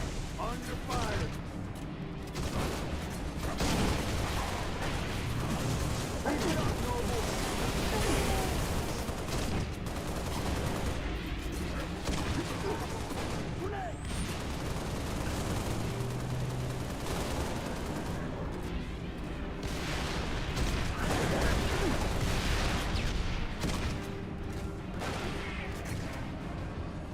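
Sustained gunfire and explosions from a Halo battle rattle on for the whole stretch, dense bursts and booms layered over one another, with players chatting over the combat.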